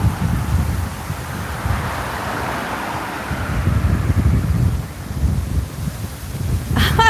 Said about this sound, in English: We're just doing a little wind test here.